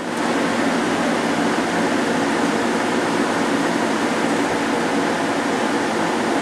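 A Hwacheon Hi Tech 700 CNC lathe traverses along its Z axis with a steady, even mechanical whir and airy hum that holds constant throughout, with no voices.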